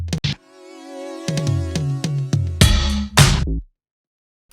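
Synthesizer notes in Logic Pro, a filter swept by an LFO ramp over one bar, give a run of short, punchy stabs and low bass notes that open into brighter, noisier hits before cutting to silence, heard close without speech.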